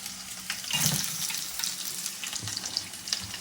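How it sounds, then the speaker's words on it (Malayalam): Onion, curry leaves, ginger and garlic sauté in a hot pan with a steady hissing sizzle, broken by the soft scrapes of stirring, close by and with no talk. "അതിൻ്റെ കൂട്ടത്തിൽ ഇഞ്ചിയും വെളുത്തുള്ളിയും കൂടി ഇതെല്ലാം കൂടി ഒരുമിച്ചിട്ടിട്ട് വഴറ്റുവാണ്."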